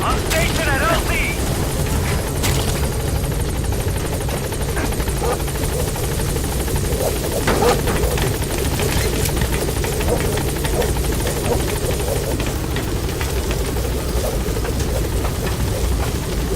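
A support helicopter in Metal Gear Solid V arriving at a landing zone, its rotor thumping loud and steady throughout with a constant engine whine, while radio voices talk over it.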